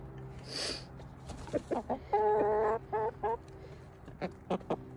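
Chickens clucking nearby, a series of short bursts of clucks and a drawn-out squawk in a quiet setting, with a faint voice briefly at the start.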